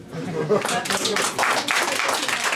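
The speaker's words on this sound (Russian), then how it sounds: "Аплодисменты." Audience applause in a lecture hall, dense continuous clapping from many hands at fairly close range, with some voices mixed into the crowd noise.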